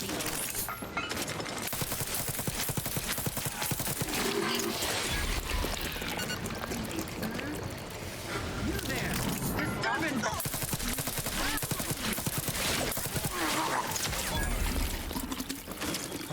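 Gunfire from a weapon in the sci-fi video game The Outer Worlds 2 rattles in dense, sustained bursts amid loud game action, filling the whole stretch with little pause.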